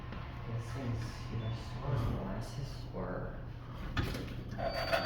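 The rear door of a modded hydraulic elevator at 100 Ring Rd, Garden City, NY slides open with a low rumbling glide and a few knocks, heard close by as someone talks over it.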